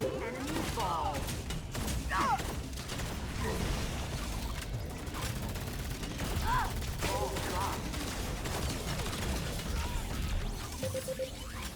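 Rapid dual pistol gunfire and mechanical weapon clatter in the online shooter Lawbreakers, a busy continuous mix of shots, clicks and game effects with a faint voice in the background.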